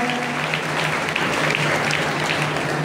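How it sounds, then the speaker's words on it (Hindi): A crowd at a stage function applauds loudly and continuously to welcome a guest onto the stage, with dense, even clapping and a low electrical hum running beneath it. "ताली बजाते रहेंगे, जोरदार ताली बजाते रहेंगे,"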